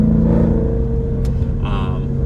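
Lamborghini Urus exhaust with its valves opening at higher RPM, a loud, deep engine rumble and rising growl heard close up from inside or beside the SUV, with a brief higher whine near the end.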